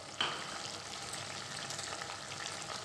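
Chicken curry masala fries in a pan with a steady, close sizzle, a sharp spatter near the start and constant crackling throughout, no voices.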